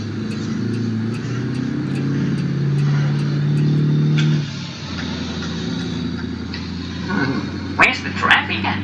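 A timber truck engine in the BeamNG.Drive driving game runs steadily and loud throughout, with a low drone that shifts pitch midway as it changes gear, plus a few brief clanks near the end and someone talking over it.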